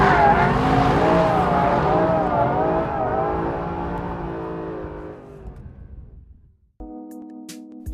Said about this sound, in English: Catch it with a bit of throttle and then ride out the most delicious slide.